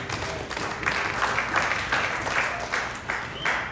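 Audience applause at a product reveal event in Las Vegas, a steady wash of many hands clapping at moderate distance, continuous for a few seconds.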